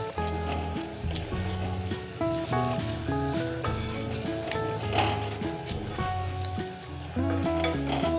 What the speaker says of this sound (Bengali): পেঁয়াজ কুচি ব্রাউন করে ভেজে নেব।